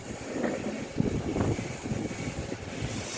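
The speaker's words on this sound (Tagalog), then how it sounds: "Sabi ko na nga ba mahangin." Wind blows outdoors in a steady, fairly faint rush with gusty buffeting against the microphone, and no voices are heard.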